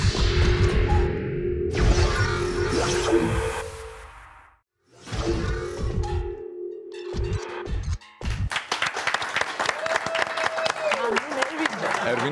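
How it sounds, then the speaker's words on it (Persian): A studio audience at a Persian talk show claps in loud, dense bursts, broken by a short pause, with music and voices mixed in around the applause. "ارویـن عزیز دقیقاً همه این تشویقا مال توئه"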